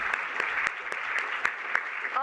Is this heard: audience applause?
yes